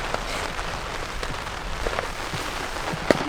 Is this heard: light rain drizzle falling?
yes